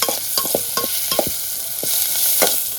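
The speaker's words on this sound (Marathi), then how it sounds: "कांदा, हे जे आहे कांदा मस्त भाजला जातो" Curry leaves and onion frying in a pan at a night jungle campsite in Konkan, with several sharp clinking scrapes of a utensil over a steady broadband sizzle, close and fairly loud, no talking.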